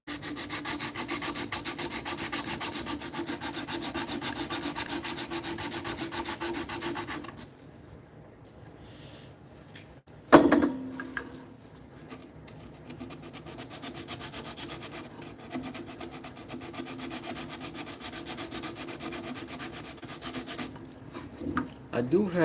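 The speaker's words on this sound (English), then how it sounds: "think we're almost ready for some sandpaper" Sandpaper rubs rhythmically against a carved wooden cane in close, steady strokes, pausing briefly, then resuming after a sharp knock, with faint talk in the background.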